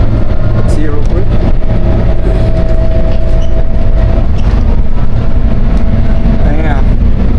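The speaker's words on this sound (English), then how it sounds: "Look at the other trains coming on the other side." A SkyTrain passes on the Kuala Lumpur line with steady rail noise, a rattling clatter and a drawn-out high squeal, loud and continuous throughout.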